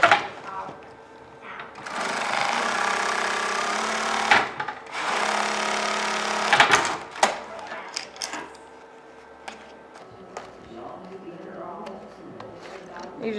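A sewing machine stitching canvas-style bag panels together runs in two steady, fairly loud bursts of whirring, then stops, leaving quieter handling noises and a person talking over the remainder.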